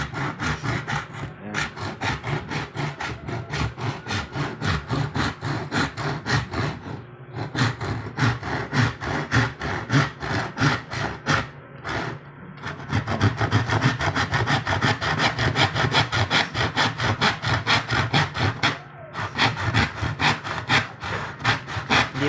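Hand saw cutting through a bamboo piggy bank, a steady rhythmic back-and-forth rasp of strokes, close and fairly loud, with a few brief pauses between runs.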